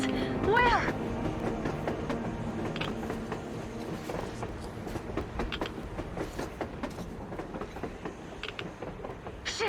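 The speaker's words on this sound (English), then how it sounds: "A train! A damn train on the surface!" A train rolls past on the surface in the video game Metro Exodus, a steady rumbling clatter with faint creaks and metallic clicks that holds for about ten seconds, under a person's talk.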